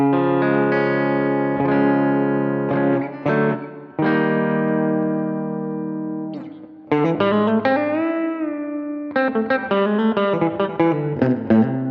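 An electric guitar, a modded beginner instrument, played on the bridge pickup with a clean tone, ringing chords and picked notes in separate phrases, loud and close with short pauses between.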